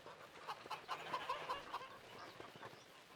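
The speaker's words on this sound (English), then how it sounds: "Look, we have our ducks and our chickens in the trailer." Chickens cluck in a livestock trailer in Farming Simulator 25, a run of short, moderately loud clucks close by with ducks also loaded, and no talk over them.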